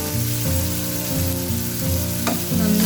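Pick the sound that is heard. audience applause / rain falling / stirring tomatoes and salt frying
stirring tomatoes and salt frying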